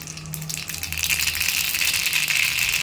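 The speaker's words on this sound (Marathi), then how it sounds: "आता मोहरी छान तडतडली पाहिजे." Mustard seeds crackle in hot oil for a tempering, a dense, continuous hissing sizzle with rapid fine pops, close and steady throughout with no talking.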